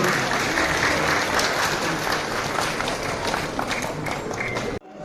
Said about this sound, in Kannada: ಜೋರಾಗಿ ಚಪ್ಪಾಳೆಯನ್ನು ಕಟ್ಟುವ ಮೂಲಕ ಪ್ರೋತ್ಸಾಹಿಸಬೇಕು